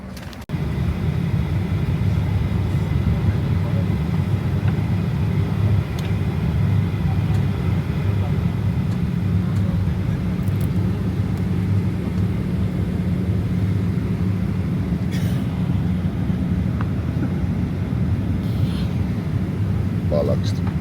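Steady, loud droning cabin roar of an airliner in flight, a constant low rumble with little change throughout.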